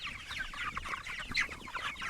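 Cornish Cross broiler chickens on free-range pasture cluck and chatter as a busy flock, continuous overlapping calls close by with no talk.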